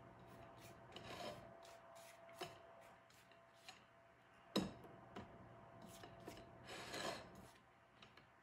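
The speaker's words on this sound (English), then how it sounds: "Scrape down the sides of this really quick." Spatula scraping down the sides of a bowl of chocolate cheesecake batter, a series of faint, short rasping strokes, irregular and close, with a slightly louder scrape midway and quiet between.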